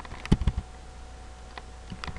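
A quick run of four or five keystrokes clacks on a computer keyboard, close and crisp, followed by a near-silent pause and a couple of faint final taps.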